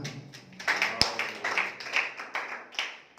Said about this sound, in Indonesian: Sekali lagi boleh tepuk tangan bagi Tuhan.